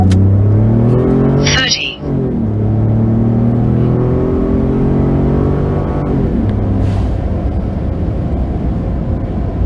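A Ford F-150 EcoBoost pickup brake-boosts to about 2,000 RPM and launches hard. The loud engine note climbs in pitch through repeated rising sweeps as the truck shifts up through the gears, and a voice briefly speaks over it.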